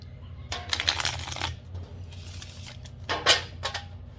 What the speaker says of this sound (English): We can shuffle like one more time